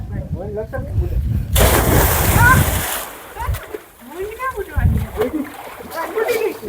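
Water splashes heavily for about a second and a half as someone bathes in a village well, followed by smaller sloshes, with people talking before and after.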